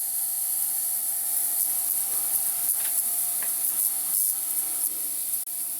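An ultrasonic cleaner runs with a water bath holding an aluminium foil tent, producing a steady high-pitched hiss and buzz with a faint tonal whine and soft crackling texture, close and continuous.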